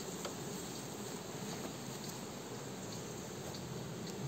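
An opened honeybee colony in a hive gives off a dense, steady buzzing drone, continuous and moderately faint, with no voices.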